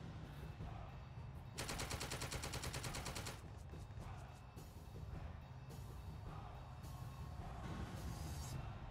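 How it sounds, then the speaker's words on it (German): Machine gun bursts hitting a tank in the World War II strategy game The Troop, rapid rattling volleys in several separate bursts over a constant low rumble. "Er schießt mit Maschinengewehr auf unseren Panzer."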